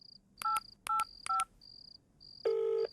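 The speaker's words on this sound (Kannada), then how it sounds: "ಇವನ್ ನಂಬರ್ಗೆ ನಾನಾ ಒಂದ್ಸಲಿ ಟ್ರೈ ಮಾಡ್ತೀನಿ" Push-button phone keypad dialing a number: three quick pairs of sharp DTMF beeps, then one longer steady tone, over a faint continuous high chirp like insects in the background, with no talking.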